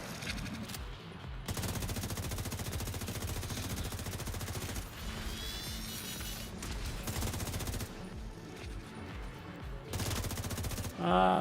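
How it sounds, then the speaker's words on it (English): Rapid assault rifle bursts in The Division 2, a loud continuous automatic fusillade that stops briefly and resumes several times, with game sounds and a voice speaking underneath. "Put an assault rifle on."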